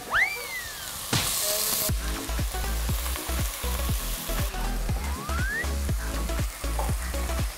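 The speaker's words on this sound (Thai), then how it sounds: "เดี๋ยวเราจะใส่หมูหมักลงไปนะครับในหม้อที่เราใส่น้ำมันงานะ" Marinated pork hits hot sesame oil in a pot with a loud burst of sizzling, then keeps frying steadily with repeated stirring and scraping sounds close by.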